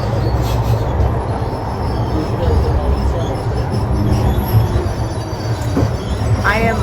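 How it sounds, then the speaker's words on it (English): Rumbling interior of a moving city tram in Turin, Italy, steady rolling noise with a brief squeal of wheels near the end and people talking faintly. "I am on the tram in Turin."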